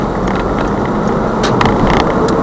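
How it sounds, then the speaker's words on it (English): A learner's car accelerates off a roundabout during a practical driving test, the engine's steady loud drone filling the cabin throughout with no pauses. "signal left, and accelerate off the roundabout"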